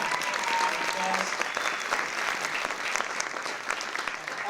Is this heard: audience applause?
yes